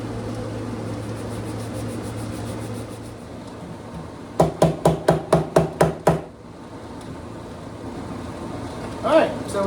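Seven quick, evenly spaced taps ring out at close range as a guitar neck is knocked down into its seat during a neck reset on a 1943 Martin D18 acoustic, set against a steady low hum.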